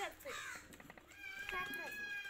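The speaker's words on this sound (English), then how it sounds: "You can also hear some crowing, and actually we have lots of crow around us" Crows near a home where pet pigeons are bathed caw several times in quick succession, fairly close and loud over a faint background.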